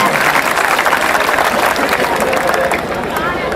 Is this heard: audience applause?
yes